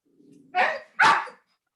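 A dog barks twice, close and sharp, after a soft low whine, during a city council meeting, with silence around the barks.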